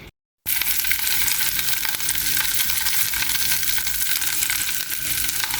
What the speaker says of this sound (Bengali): এই যে সুটকি টেলে নিচ্ছি খিচুড়ির সাথে খাওয়ার জন্য সুটকি টেলে নিচ্ছি